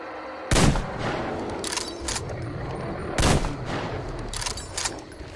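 Two loud gunshots a few seconds apart in the video game Metro Exodus, with fainter shots and clatter in between, sharp booms over a steady background.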